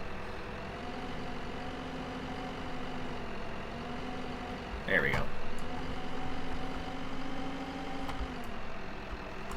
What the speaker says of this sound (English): this tractor should be able to handle this. But it has such a funny sound